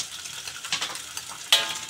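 Minced pork sautéing in a pan, a soft steady sizzle with a few brief stirring scrapes, one louder at the end, alone and fairly quiet.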